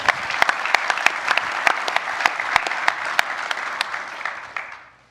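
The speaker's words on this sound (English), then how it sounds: "Let's give them a round of applause." Dense audience applause at a gold investment webinar, a steady crowd of many hands clapping continuously before it tapers off and fades at the end.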